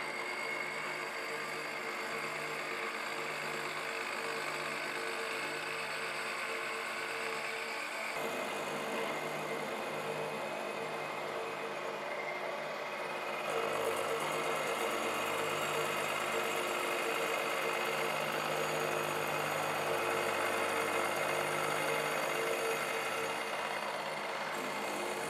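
A machine tool cuts a bronze casting at 25 thou per pass, giving a steady, continuous mechanical whine and hum with a slight shift in tone partway through. No voices are heard.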